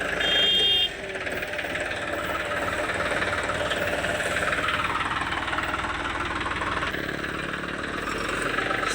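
A new tractor engine runs steadily and fairly close for the whole stretch, with a constant mechanical drone and rough knocking texture that holds throughout.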